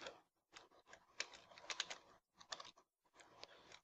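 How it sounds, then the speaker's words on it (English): Rapid bursts of computer keyboard typing, keys clattering in quick flurries with brief pauses between them, close and fairly quiet. "So if you can hear my like furiously typing."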